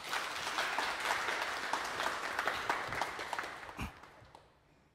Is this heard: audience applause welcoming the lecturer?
yes